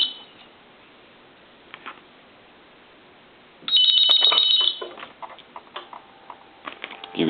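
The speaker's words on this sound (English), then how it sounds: "Give it one more ring." A quiet, hissy line gives way to a single loud burst of electronic ringing from a Coca-Cola animated polar bear telephone under repair, followed by clicks and handling noises.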